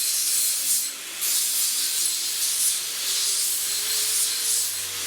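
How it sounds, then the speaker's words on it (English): A homemade blade sander grinds burrs off metal pieces in a continuous close hissing rasp, with slight dips in intensity as the work is pressed and eased against the belt. "this little sander is my homemade blade sander"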